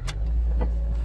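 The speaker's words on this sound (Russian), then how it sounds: "Машина заводится." A 2012 Toyota Corolla engine cranks and rumbles low and steady, with a couple of brief clicks over the idle.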